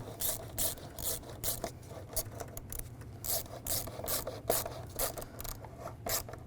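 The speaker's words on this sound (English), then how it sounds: "Tighten this worm clamp down." A worm clamp on the engine intake snorkel of a 2010-2017 Chevrolet Equinox is tightened by hand, giving quiet, rapid rasping and clicking strokes in an irregular rhythm, close up with no talk.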